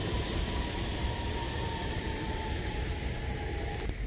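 A train rolls past close to the railway line beside an uncultivated field, a loud, continuous rushing rumble with a faint steady whine running through it.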